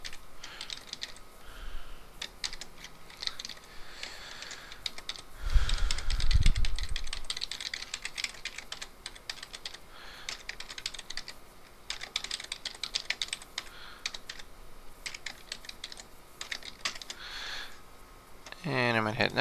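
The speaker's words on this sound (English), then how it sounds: "I'm going to type in the FTP address." Typing on a computer keyboard: a close, steady patter of key clicks in bursts with short pauses, a low thump partway through, and faint background noise.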